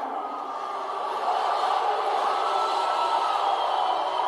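Crowd at a Middle Tennessee Mayhem cage-fighting event roars in a continuous, even wash of noise that holds steady and swells slightly partway through, heard from a moderate distance.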